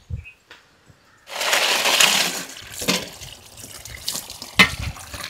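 Crabs are rinsed in water: after a short pause, splashing and sloshing rise in close, uneven bursts as they are swished about.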